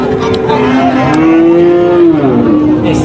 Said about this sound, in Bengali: অনেক সুন্দর একটা গরু।